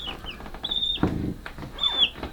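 Young chicks in a brooder give short, high peeping chirps with a few soft clucks and rustles, close by and fairly quiet.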